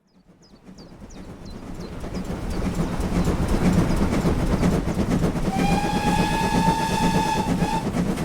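A GWR 2251 class Collett Goods steam locomotive in a train simulator game builds from quiet to a loud, steady rolling chug with rhythmic clicks, then a long whistle blast sounds over the running train.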